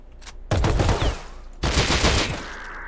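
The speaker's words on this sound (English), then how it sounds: "I guess I shouldn't be hip firing" Bursts of hip-fired gunfire in the survival game Rust, two loud rapid volleys about a second apart, close and dry with no talking.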